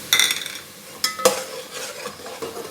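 Ginger and garlic frying with onions in a pan: a close sizzle under sharp metal stirring scrapes, with a few louder clanks spread unevenly.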